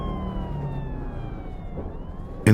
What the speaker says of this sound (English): Riding in the back of the ambulance on the way to the hospital, Bertie quietly murmured, "Hold on, Murdo."